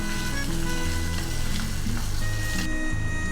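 Finely chopped peeled ginger and green chilli hiss and sizzle loudly in hot fat as they are stirred through, a dense continuous frying crackle with no voices.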